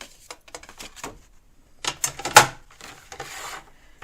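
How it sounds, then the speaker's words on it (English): A paper trimmer slicing gift bag paper makes close scratchy cutting strokes and rustling, with scattered light taps before a louder rasping slice and a softer follow-up swipe. "I'm going to cut this off. I'm going to get my"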